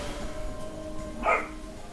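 A dog gives a single short bark in the distance at a home, standing out briefly over a steady background hum.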